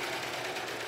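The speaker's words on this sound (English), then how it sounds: "the serger is fast and it does have a lot of power" A serger sewing machine runs fast and steady, a dense continuous whirring hum with no break, close by and alone for a brief moment.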